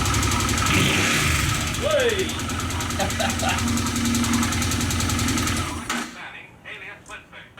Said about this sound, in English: Yes, I just started up the bike.